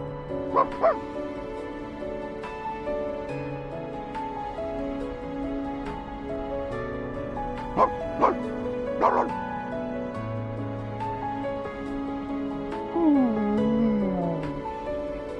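Small puppy barks and yips from Reverse: 1999, a few short sharp yaps scattered over a steady musical game soundtrack, with a brief whimpering slide near the end.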